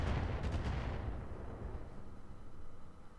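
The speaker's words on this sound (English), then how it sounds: "here comes them missiles" Incoming missile explosions in the Roguetech BattleTech mech game land as a heavy booming blast with a short crackle of hits, then a rumble that slowly decays; loud and without speech.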